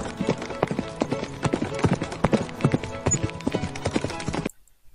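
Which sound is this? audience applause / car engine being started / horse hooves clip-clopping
horse hooves clip-clopping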